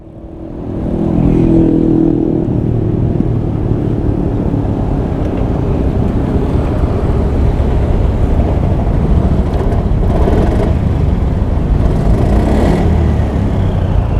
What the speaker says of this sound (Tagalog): Pero umandar yung makina.